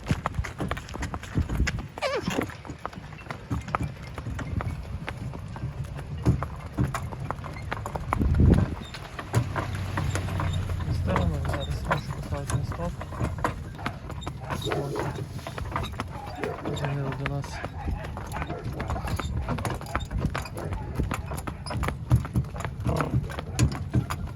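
A pregnant isabelline mare's hooves clip-clop in a steady rhythm on a hard road while people talk nearby over a low background hum.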